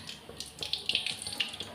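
Water pours in a broad splashing stream into a pot of cooking rice, thinned down for Tamil-style curd rice, running steadily near and fairly loud with a few brighter splashes.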